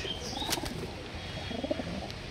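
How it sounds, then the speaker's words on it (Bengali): A record-holding khaki female pigeon and loft mates coo softly nearby, a gentle, continuous burble with a brief flutter of wings and no speech. "এই সর্বোচ্চ রেকর্ডদারি খাকি কবুতর"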